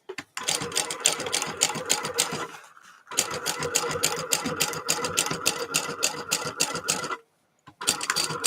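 A sewing machine top stitching two fabric pieces for a bottle sling runs in steady rapid bursts, stopping briefly around three seconds and again near seven seconds before starting up once more, close and loud with no talk.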